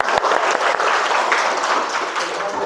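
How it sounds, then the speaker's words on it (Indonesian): A group claps together after an icebreaker game, a dense, even wash of applause sustained for the whole stretch, fairly loud and close. "Oke, tepuk tangan untuk kita semua"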